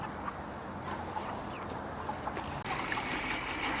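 Running water rinsing a freshly cleaned chicken, a steady close trickle and splash that grows louder and brighter partway through.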